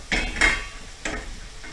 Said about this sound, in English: give it a good stir back here